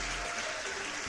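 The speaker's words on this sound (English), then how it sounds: "You get a round of applause." Applause from a livestream audience, a steady broadband wash of clapping that holds evenly for about a second at a modest, slightly distant level.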